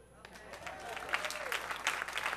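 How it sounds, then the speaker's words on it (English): An audience at an improv graduation show breaks into applause that swells from quiet to a full, steady clatter of clapping over a couple of seconds, with a voice briefly audible at the start. "So round of applause for the internet."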